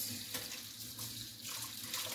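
Tap water runs steadily into a pot being filled for cooling cold water, a continuous close splashing hiss with no talk.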